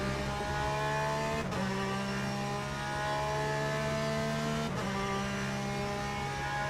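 Porsche 911 GTE race car in the Le Mans Ultimate racing game, its engine a steady sustained drone with harmonic whine held throughout, with two brief dips where gears shift, no talk over it.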